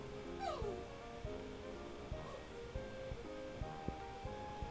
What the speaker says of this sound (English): Puppy's making a strange sound again.